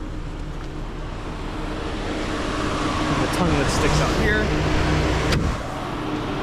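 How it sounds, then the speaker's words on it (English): A 1995 Mercedes-Benz E320 Cabriolet engine runs at idle with the air conditioning on and auxiliary fans spinning, a steady mechanical hum and whir close by while someone talks over it. "We'll go to engine bay. It is running."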